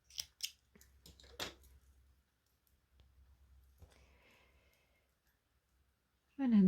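Scissors snipping crochet yarn while a crochet doll's head is being stuffed, with a few quiet, close clicks and snips at the start, soft handling rustles, then a louder noise at the end.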